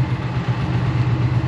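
An Indian Challenger Dark Horse motorcycle engine runs at idle inside a workshop, a loud, continuous low rumble that holds steady with no talking.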